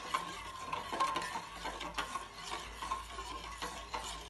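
Milk in a pot is stirred steadily to keep it from curdling, a soft, fairly quiet run of rhythmic scraping and clicking spoon strokes against the pot with a faint simmer underneath and no talk.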